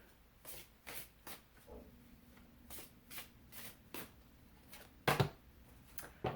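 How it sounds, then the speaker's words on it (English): Archangel Power Tarot cards are shuffled by hand in a series of quick papery riffles and slaps, close and fairly quiet, with a sharper clack near the end. "I'm shuffling now the Archangel Power Tarot deck."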